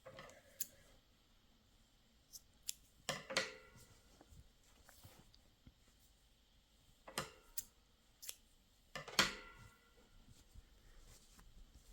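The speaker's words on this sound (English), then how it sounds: "And you can cut off this white one." Scissors snipping white yarn close up, a handful of separate sharp crisp cuts spread out over quiet pauses, no talking.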